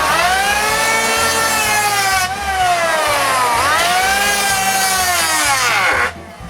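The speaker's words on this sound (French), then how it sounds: "Je vais apporter ma varlope électrique spécialement pour cette tâche-là." An electric hand planer shaves a wooden window sill for a chalet, its high whining motor pitch dipping and recovering with each pass through the wood, loud and close, then cutting off near the end.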